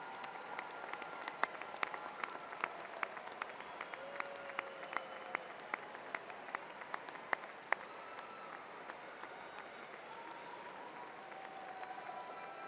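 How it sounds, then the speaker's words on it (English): Audience applause at a May 2015 commencement ceremony honoring the graduates' family members, a sparse, fairly quiet patter of individual claps from a large hall, steady throughout with distinct sharp hand claps standing out. "let's give them a round of applause of appreciation"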